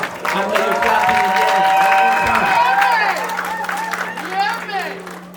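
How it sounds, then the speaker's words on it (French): Congolese wedding guests clap and cheer loudly for the groom as he rises, a dense wash of applause and whoops with music and crowd voices running underneath throughout. "Sous vos acclamations encore une fois."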